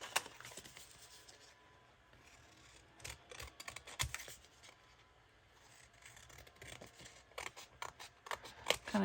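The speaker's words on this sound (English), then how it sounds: "Kind of angling my scissors to get up underneath that fringe a little bit." Sharp scissors snip and crunch through frayed fabric fringe on a premade-kit journal, quiet close-up cuts in irregular bursts with soft scraping and rustling between snips.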